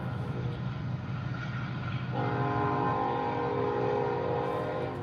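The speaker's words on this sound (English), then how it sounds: "Wait till the train blows the horn 4 times." A passing train sounds its horn, a sustained loud blast entering partway through over a steady rumble of rail noise, fairly near and with no talking.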